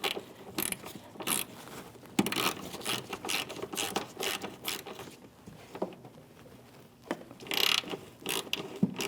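A ratchet clicks in short repeated bursts while a hood hinge bolt is tightened on a Chevrolet Malibu, close and fairly quiet with pauses between strokes.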